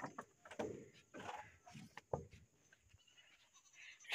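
Two goats bleat after being brought fresh-cut grass, several short wavering cries spread across the stretch, close but fairly quiet, with faint rustling between them.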